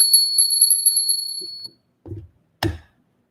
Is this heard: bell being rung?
yes